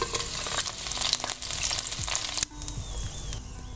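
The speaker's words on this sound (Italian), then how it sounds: "Aggiungiamo un filo di olio, aspettiamo a fuoco medio-basso che l'olio inizi a fare le prime bollicine, poi aggiungiamo un po' di acqua e chiudiamo con il coperchio." Chinese dumplings fry in a pan of oil over medium-low heat, a dense steady sizzle and crackle that shifts abruptly as water is poured in, then settles into a softer hiss.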